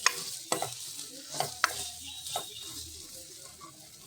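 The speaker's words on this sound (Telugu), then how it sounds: "ఇలా పేస్ట్ కూడా ఆయిల్లో మంచిగా వేగిన తర్వాత ఇందులో మనం సరిపడేంత పసుపును అయితే యాడ్ చేసుకొని మంచిగా కలుపుకోవాలి" Masala paste frying in oil as turmeric is stirred in, for Punjabi chana masala: a steady soft sizzle with a few sharp scrapes of a spoon against the pan, close and alone without talk.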